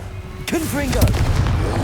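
A Confringo blasting spell going off in the game Hogwarts Legacy, a sharp burst followed by crackling, booming rumble, with a voice calling out a spell just before the blast.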